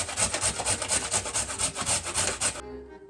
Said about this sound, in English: I just finished grating the carrot, more than half of a cup I think.